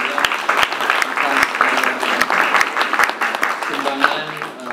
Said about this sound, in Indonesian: Jadi sebelumnya kita beri tepuk tangan dulu ya buat Ibu